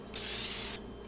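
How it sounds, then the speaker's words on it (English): A short burst of nonstick cooking spray into a bowl hisses for about half a second, close and steady, then cuts off abruptly. "some nonstick spray"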